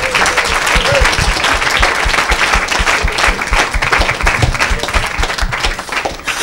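A church congregation applauds and acclaims the Lord in sustained, loud clapping that fills the room at a steady rhythm, with voices cheering and speaking over it.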